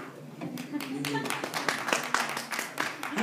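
Audience clapping at a Diwali poetry gathering: scattered, uneven handclaps spread through a room, with voices speaking over them.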